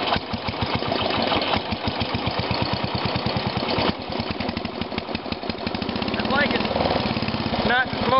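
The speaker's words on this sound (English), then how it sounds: "the engine's coming off this tractor" A 110 tractor engine due for rebuilding runs rough nearby, with a fast uneven knocking pulse and a loud mechanical clatter that stutters briefly midway, and a voice speaks over it near the end.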